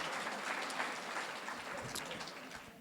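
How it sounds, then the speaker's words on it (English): An audience applauding elected officials at a state senator's regional gathering, a dense steady wash of many hands clapping that fades slightly toward the end. "let's give all of our elected officials a round of applause and a hoot and a holler"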